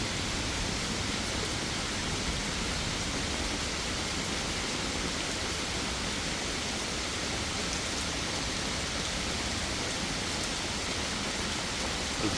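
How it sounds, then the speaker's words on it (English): Heavy summer rain pours steadily onto a koi pond and its waterfalls during a thunderstorm, a dense, even hiss with no talking. "This is like a Florida rain."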